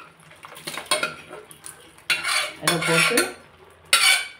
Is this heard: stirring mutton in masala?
yes